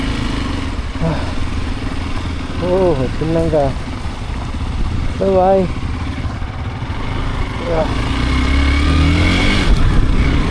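A Hero Xpulse 200 motorcycle engine hums and revs steadily at close range as a ride begins on the Manali to Chandigarh road, with someone talking over the continuous rumble.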